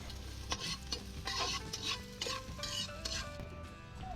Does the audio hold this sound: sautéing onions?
yes